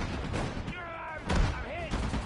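Rifle and machine-gun fire crackles through a World War II game battle among Normandy hedgerows, several sharp close reports among steady background gunfire, with soldiers' voices shouting over the shots.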